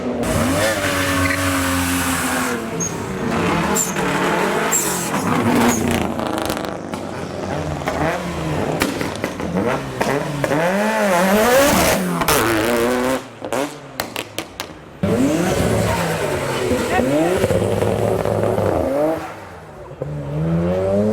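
Car performing handbrake turns at a lively JDM-versus-the-world car meet: a loud, sustained engine revving and rising and falling through gear-like sweeps, with tire squeal and scraping, dipping briefly near the middle and end.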